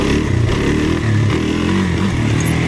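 A dirt bike engine revs steadily and loudly during a sit-down wheelie, a close, continuous buzzing drone with slight rises and dips and no talk over it.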